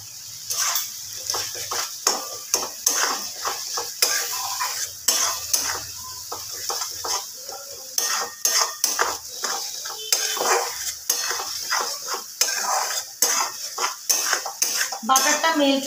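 Butter stirred in a pan while cooking a white egg curry, with frequent close metallic scrapes and clinks of a utensil against the pan over a soft, steady sizzle, continuing throughout without talk.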